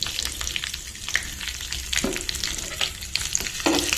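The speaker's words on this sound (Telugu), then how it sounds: "కర్రీ లీవ్స్ వేసామండి" Curry leaves and mustard seeds fry in hot oil for a chutney tempering, a dense, loud, crackling sizzle with sharp pops and spatters throughout, close up and without talk.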